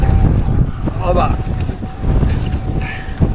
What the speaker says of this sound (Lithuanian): Žiauriai vėjuoti.